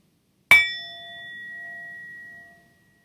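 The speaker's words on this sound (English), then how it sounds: "I'll ring the bell." A mindfulness bell is struck once, loud and close, ringing out in a clear sustained tone that fades slowly over a few seconds into silence.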